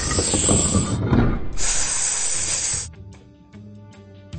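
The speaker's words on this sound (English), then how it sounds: "Now you need to find a room with two snakes." Snake hissing behind a locked door in the PAW Patrol jungle rescue game: a loud, close, breathy hiss in two long bursts, followed by softer tonal game sounds.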